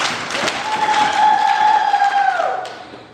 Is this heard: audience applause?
yes